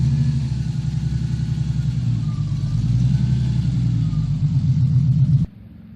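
A classic car, a TBR, rumbles past at a classic car club Boxing Day event with a steady, throbbing low engine note that holds loud and close before cutting off abruptly, with no one talking.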